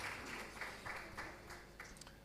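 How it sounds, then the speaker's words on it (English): Another round of applause from an audience at a corporate governance colloquium, many people clapping steadily at a distance for a couple of seconds, gradually thinning toward the end. "let's give her another round of applause"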